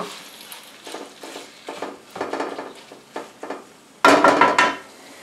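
Chunks of snapping turtle meat searing in melted fat in a hot pan, crackling and sizzling in uneven bursts, with a louder spitting burst near the end.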